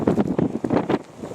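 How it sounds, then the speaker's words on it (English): Gusty wind buffets the microphone on the snowy Pyg track up Snowdon, a rough, pulsing roar that swells and dips in quick bursts with no voices. "Wind's picked up."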